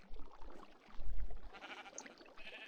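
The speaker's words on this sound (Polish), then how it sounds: "Jak zawołać owce, żeby podeszły?" A sheep in the Minecraft video game bleats in short bursts over a busy, noisy game background, with no speech.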